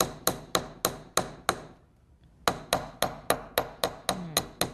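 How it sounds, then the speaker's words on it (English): Chasing hammer striking metal ring wire to flatten it, sharp metallic taps in a quick regular series of about a dozen blows, a brief pause in the middle, then the firm strikes resume, close and alone. "This is called a chasing hammer."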